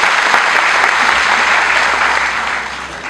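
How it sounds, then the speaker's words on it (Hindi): An audience claps steadily and loudly for a guest named Neeta at a public gathering, a dense, even wash of applause that holds throughout and tapers slightly at the end. "आप लोग नीता जी के लिए भी थोड़ी सी तालियां बजाएं"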